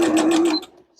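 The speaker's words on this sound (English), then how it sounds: "sew from the edge down to the half inch" A sewing machine runs steadily while stitching a garment's side seam from the edge down to the half inch, a continuous close hum that cuts off abruptly, followed by a brief small click.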